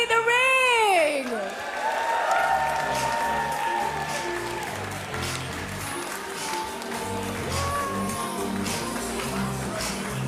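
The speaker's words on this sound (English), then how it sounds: "Give them another round of applause as they exit the ring." Crowd applauding and cheering at a chessboxing show as the fighters leave the ring, sustained clapping with whoops under an announcer's amplified voice throughout.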